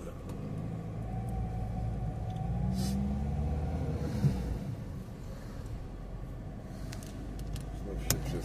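A car driving on the road, heard from inside the cabin: a steady low engine and road rumble that swells slightly in the middle, with a couple of faint clicks.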